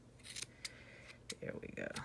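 Scissors trimming a crochet yarn pom-pom in small snips, a few brief cutting clicks close by over a faint room background, with a voice speaking around them.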